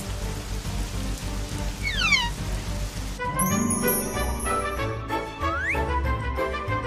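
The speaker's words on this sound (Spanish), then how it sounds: "¡Está lloviendo!" Steady rain patters throughout, with bright chirping whistles and tonal, music-like sound effects rising over it partway through.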